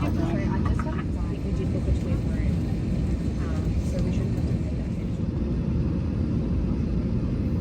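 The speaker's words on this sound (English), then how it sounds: "The aircraft next to us just pushed back," An Airbus A320 cabin on the ground at the gate before a Jetstar flight from Sydney to Melbourne, with a loud, constant low engine and ground-equipment rumble from a nearby aircraft being pushed back, steady throughout.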